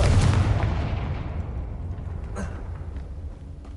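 A Confringo blasting curse goes off in Hogwarts Legacy as one loud, booming explosion that opens the clip and then rumbles and fades out slowly, with no voices heard.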